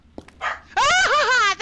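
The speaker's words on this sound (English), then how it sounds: "Ah, that dog barked." A dog in The Conjuring House horror video game gives one loud, drawn-out bark that rises into a wavering, howling whine and fills the short moment, preceded by faint game noises.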